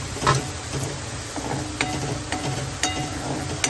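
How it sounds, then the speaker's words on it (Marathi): Chili and garlic sautéing in a pan for a viral Maggi noodle recipe, a steady soft sizzle with occasional stirring scrapes and clinks of a utensil against the pan, close by and without talk. "सो आता आम्ही ह्याच्यात मिरची आणि लसूण टाकतो. त्याला आपण थोडंसं परतून घ्यायचं."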